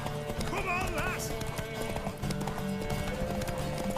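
Horse hooves clip-clop steadily in The Witcher 3, with a whinny rising partway through, all set under game music and a speaking voice.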